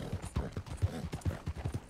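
Hooves clip-clop in the Western video game Red Dead, a quick, uneven run of dull thuds from several horses moving together, close and moderately quiet, with no voices over them.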